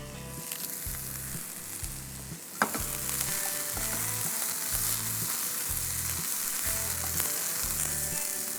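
Spring onion greens and baby spinach leaves sizzle steadily in a hot pan, a continuous frying hiss with a regular rhythmic low thumping underneath and one sharp clack partway through, with no voices.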